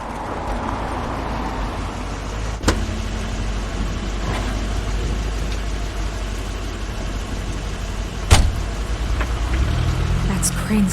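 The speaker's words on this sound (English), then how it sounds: "That's Crane's car" A car approaches and idles in the rain, its low engine rumble steady beneath constant rainfall noise, with a couple of sharp knocks standing out and the engine swelling slightly near the end.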